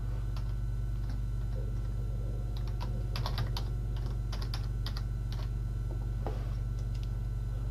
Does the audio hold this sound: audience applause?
no